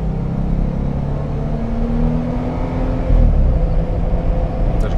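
A Jeep Wrangler engine runs steadily with a low rumbling drone, rising to a heavier, louder growl about three seconds in as the off-roader drives through a mud race course, with no voices over it.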